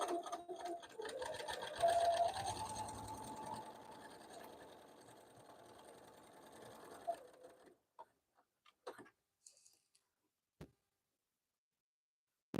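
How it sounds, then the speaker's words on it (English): Sewing machine back stitching the side seam of a zipper pouch, a steady close whirring run for several seconds that then stops, followed by a few faint scattered clicks and knocks. "I'm going to throw a couple of back stitches in there just to make sure it's secure."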